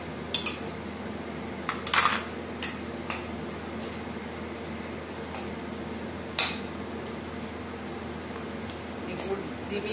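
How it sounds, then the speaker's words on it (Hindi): A spoon stirring jaggery in a pan over low heat so it melts, giving scattered metallic scrapes and clinks against a quiet steady background hum. "ये गुड़ धीमी आंच से लगातार चलाते हुए मेल्ट करें।"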